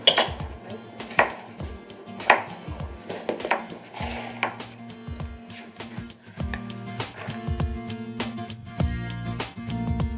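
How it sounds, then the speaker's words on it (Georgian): Kitchen scraps being chopped for compost, with a run of sharp knife knocks on a board at an irregular pace, some clustered and some spaced apart, close by with a faint clink of dishes. "აი კომპოსტოს დაჭრაში დამეხმარე."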